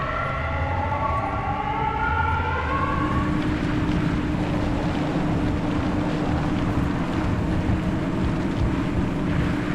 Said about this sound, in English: There's the siren we all know and love.